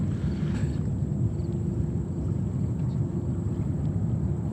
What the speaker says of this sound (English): That is an Embraer 190.